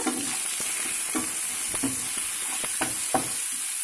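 Potatoes and chopped onion sizzling in a pan, a constant frying hiss broken by several scraping stirs of a utensil, close and fairly loud, no talking.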